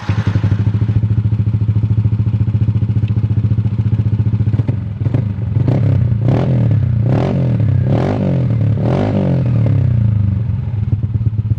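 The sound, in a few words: Kawahara exhaust of Yamaha NMAX bored up to 183 cc revving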